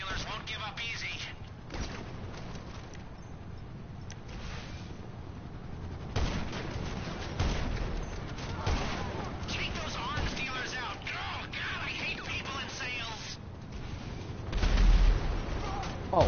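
Explosive sniper rounds and heavy gunfire crash through a GTA convoy battle against arms dealers, with dense booming shots and blasts under continuous voices talking over the fight.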